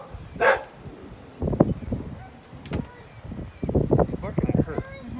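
A dog named Zeppelin barks in several short bursts close by during a roof rack installation, with a person speaking between the barks.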